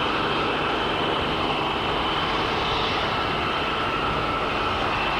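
A supersonic passenger jet at an air show gives a sustained, loud, even engine roar that holds steady throughout, with no talk over it.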